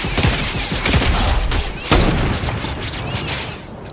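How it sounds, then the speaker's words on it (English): Rapid gunfire from the Fortnite video game, with dense bursts of shots and a heavier blast near the middle, continuous and loud throughout with no talking. "Do you want to shoot the one that's shooting you?"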